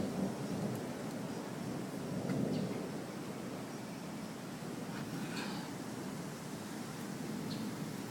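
Low thunder from an approaching thunderstorm rolling on and off over constant rain noise outdoors, with no voices present.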